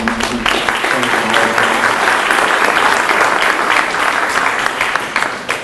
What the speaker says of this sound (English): Could we give him a little round of applause and thanks for him?